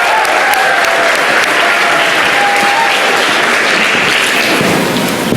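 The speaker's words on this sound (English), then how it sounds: "Let's give them a round of applause" A convention hall crowd at the 2019 South Carolina FFA Convention applauds the state officers, a loud, steady roar of clapping sustained throughout without a break.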